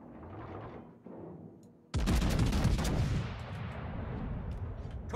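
Naval guns firing in the World of Warships video game, a sudden heavy booming salvo after a quieter rumbling stretch, followed by dense crackling blasts that trail into a rolling roar.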